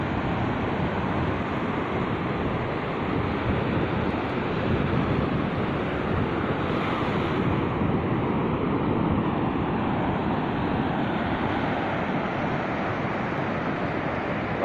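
Steady roar of ocean surf washing onto a white-sand beach at Pantai Panjang, Bengkulu, continuous and full, with wind buffeting the microphone and no voices.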